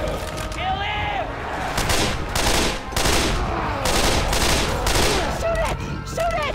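Gunfire in Left 4 Dead 2 as players shoot at a tank: dense overlapping volleys of shots in rapid bursts, loud and continuous, with game voices calling out over the shooting.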